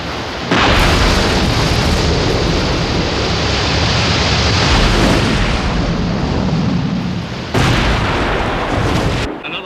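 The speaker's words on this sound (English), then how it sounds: "That gas field has blown again." A gas field blows out in a massive, roaring explosion that becomes a sustained, thunderous rumble as a fire column burns, loud and continuous for several seconds before briefly dropping and surging again.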